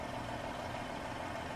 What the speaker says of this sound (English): I am running Kriechbaum's Engine Pack, as you can hear here